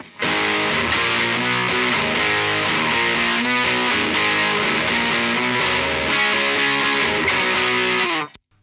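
Electric guitar chords played through a Tone Bender clone fuzz pedal, a thick, heavily saturated wall of sustained fuzz that rings loud and steady for about eight seconds before cutting off abruptly, with no talking.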